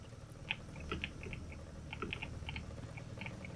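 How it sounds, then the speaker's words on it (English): Typing on a new computer keyboard during a MineMogul game session, soft rapid key clicks in irregular bursts, fairly quiet and close. "If you're hearing my keyboard in the background"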